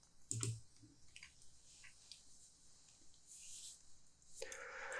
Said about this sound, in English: Okay, so I'm going to click on create here.